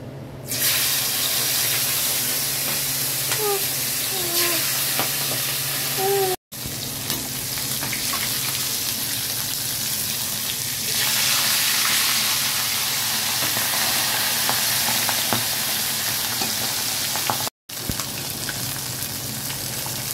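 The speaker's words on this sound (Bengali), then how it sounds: "এই মাছ কটা ভেজে নিই" Fish fry in hot oil with a loud, continuous close-up sizzle and spatter, broken by two short dropouts.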